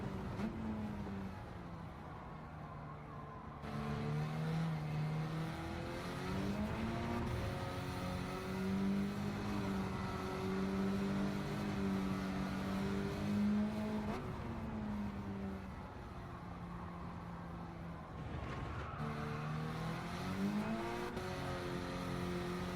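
Race car engine in Gran Turismo 7 at the Alsace track, a steady loud drone that rises and falls through gear changes, with a brief dip near the start and another late, running alone throughout.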